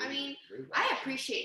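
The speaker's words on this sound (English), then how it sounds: "that's my dog." A pet dog barks in short bursts partway through, partly masked by a person talking close by throughout.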